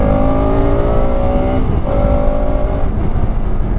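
A Bajaj Pulsar RS200 motorcycle, 2025 model, accelerating hard in second gear, its engine note rising in steady harmonic tones, dipping briefly near the middle, then climbing again, loud and close with continuous road and wind noise.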